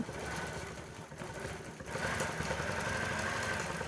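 Gammill longarm quilting machine stitching a Harley T-shirt quilt, a steady close mechanical whir with a slight dip midway, running alone without talk.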